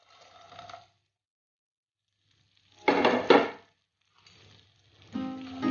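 Chopped almonds, cashews, makhana, raisins and grated coconut drop into hot ghee in a pan, brief clattering sizzles in three separated bursts with quiet gaps between, no voices.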